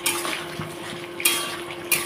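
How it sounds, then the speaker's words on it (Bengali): Mustard paste being stirred into a pointed gourd curry in a pan, with close scraping and clinking of the spoon against the pan and a couple of sharper metallic knocks, no talk. "এটা দিয়ে এখন ভালোভাবে নেড়ে চেড়ে নেব।"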